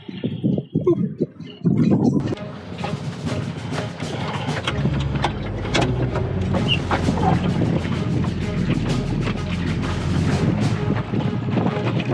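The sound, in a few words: wind over harbour water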